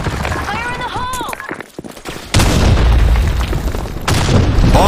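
Grenade blast in an online first-person shooter: after bursts of announcer voice and in-game speech, a deep booming explosion erupts and rumbles on, followed by a second loud burst, with voices continuing over the roar.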